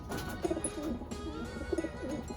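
Racing pigeons coo softly inside a loft in Houston, Texas, in a few low, rounded coos that come in two short bursts against a quiet background hum.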